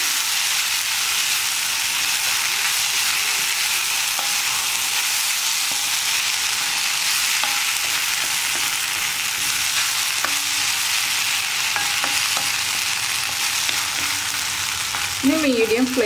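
Cowpeas, raw banana and onion for a thoran hiss steadily in a hot pan while being stirred, with faint scrapes now and then and a brief clatter at the very end.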